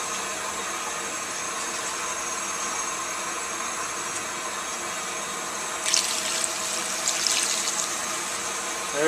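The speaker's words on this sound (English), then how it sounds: "we're going to put 5 cups of water in there." Water running steadily into a cooking pot as cups are poured in for a village-style outdoor cook, a continuous soft stream with a brief splashier, brighter pour near the end, no talk.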